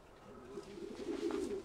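A racing pigeon in a loft gives a soft, low cooing call that swells over a couple of seconds, faint and close, with no one talking.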